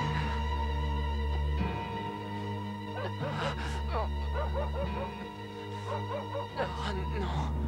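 Cartoon dogs bark and yip in short bursts while sniffing out Zorro's hiding place, set over steady orchestral music with character voices talking in places.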